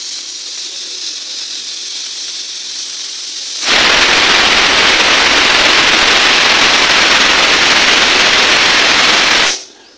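A pressure cooker whistles in a home kitchen, a loud, steady steam hiss that starts abruptly and runs unbroken for about six seconds before cutting off, with no voices over it.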